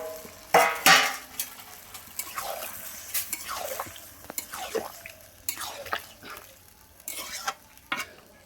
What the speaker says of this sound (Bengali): ওর সঙ্গে দেখো আলুটাও দিয়ে দেবো, দিয়ে আমি সবগুলো একসঙ্গে কষে দেবো